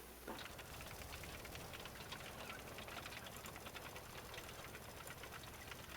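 A video game tractor engine's steady mechanical drone with a rapid, rattling chug runs throughout, close and continuous with no pauses.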